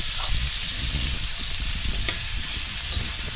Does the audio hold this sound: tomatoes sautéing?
yes